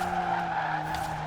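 A Ford Fiesta ST in Forza Horizon 4 skids while drifting, its tyres giving a loud, sustained tonal squeal over the steady engine drone, close and continuous for a moment, with no speech.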